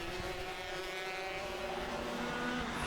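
Junior Rotax racing karts at a Rowrah kart race, a steady high buzzing engine drone from several karts running together, loud and continuous throughout.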